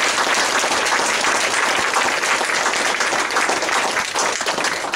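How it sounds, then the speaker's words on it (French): Audience applause at the opening of a Couleurs Mémoire exhibition at Le Valadou in Montézic: sustained, dense clapping from a gathered crowd, steady and fairly loud throughout without any talking. "D'ailleurs, on peut l'applaudir pour ça."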